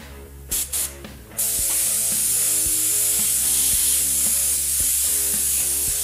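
Airbrush spraying paint onto a car hood, a loud, steady close hiss that starts after a few short bursts and runs on continuously over a background music track.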